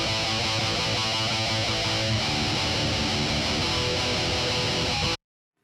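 A chunky, bright electric guitar tone for dance music production plays a dense, steady riff at moderate volume, then cuts off abruptly into silence.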